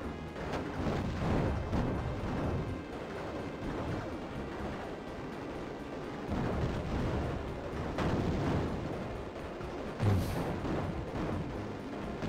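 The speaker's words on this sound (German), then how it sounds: "Tolle Explosion." Deep rumbling blasts roll on continuously, with heavier booming bursts rising and fading, an explosion in the video game Raptor: Call of the Shadows heard at moderate volume.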